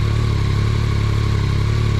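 A 2022 Yamaha MT-09 Tracer GT with a three-cylinder engine idles close by, a loud steady drone with an even low throb and no talk over it.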